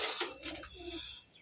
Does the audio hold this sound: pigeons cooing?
yes